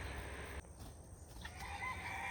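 A rooster in a backyard flock beside a newly built coop crows faintly from some distance, a brief rising call over a quiet, low background hum.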